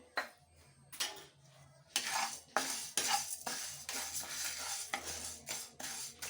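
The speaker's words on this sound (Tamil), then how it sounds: "கருப்பு கவுனி ரைஸ் அரிசி கருப்பு ரைஸு இது வந்து இதையும் ட்ரையாக கொஞ்சம் வறுத்து எடுத்துக்கலாம்" Black kavuni rice dry-roasting in a pan, stirred with a utensil that scrapes and clinks against the metal in repeated strokes, fairly close, with no voices.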